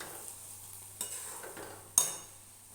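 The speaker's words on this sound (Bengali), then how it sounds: "আমি ঘি দিয়ে দিলাম আবারও।" Ghee sizzling in a pan of muri ghonto, a soft steady frying hiss broken by a couple of sharp spoon taps and scrapes against the pot, with no talking.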